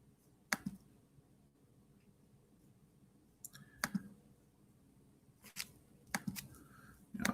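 A Chromebook touchpad is clicked a handful of times, giving sharp, quiet clicks spaced irregularly, some in quick pairs, over a near-silent room.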